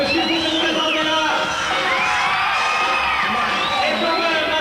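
Outdoor crowd at an old-school BMX show in Pornic cheering, whooping and shouting loudly and continuously, a dense wall of excited voices.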